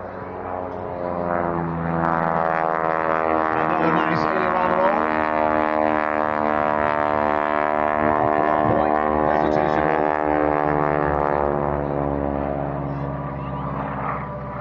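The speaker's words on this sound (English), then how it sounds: "you listen to them wind up 450 horsepower as he comes right back" A Boeing Stearman biplane's 450-horsepower radial engine winds up at an airshow, a loud continuous drone with a rising, shifting pitch as it passes close, and an announcer's voice faintly heard over it.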